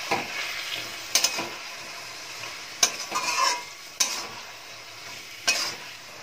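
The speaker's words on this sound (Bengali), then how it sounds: "হলুদ গুঁড়ো আর নুনটা দিয়ে ছোলার শাকটা ভালো করে একটু নাড়িয়ে নিচ্ছি" Chickpea greens stirred in a pan with turmeric and salt, a steady soft sizzle broken by several sharp scraping clacks of a spatula against the pan at irregular intervals, close and fairly quiet, with no talking.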